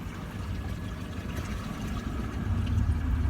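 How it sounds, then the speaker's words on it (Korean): Outboard motor on a motorboat during a boat license test, a steady low engine drone that rises in pitch and loudness toward the end as it revs up, heard close with water noise. "모터 소리가 올라가는 게 보이시죠?"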